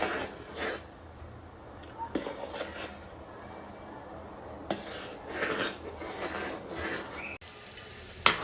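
Ghee being stirred in a pan on a gas stove, with repeated scraping and clinking of the utensil against the pan over a low sizzle, moderately close, with occasional sharper knocks.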